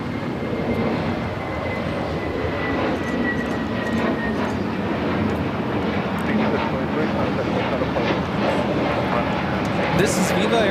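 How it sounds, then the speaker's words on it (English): Airbus A321neo jet taking off at LAX, a steady broad engine roar that holds at constant loudness throughout, heard from some distance with faint airport background. "This is Viva Airbus Flight 623 taking off to Monterrey, Mexico on the A321neo."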